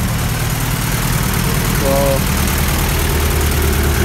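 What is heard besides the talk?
Honda H22 engine idling in a car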